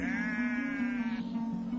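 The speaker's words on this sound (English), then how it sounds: "It seems even Mikhail's sheep are bilingual" A sheep bleats in a long, wavering, nasal call held for over a second, close and loud, followed by a rougher, lower tail as the flock's sound continues.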